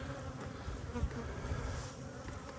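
Honeybees swarm around hive boxes in a cow pasture apiary, a dense continuous buzzing close by, with a faint voice murmuring underneath.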